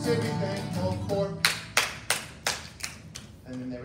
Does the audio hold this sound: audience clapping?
yes